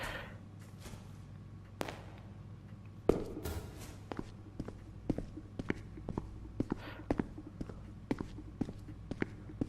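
Footsteps of the player character in the horror game Death Or Regret: a steady run of soft, evenly spaced thuds, one per step, with a sharper knock or two early on, over a low ambient hum.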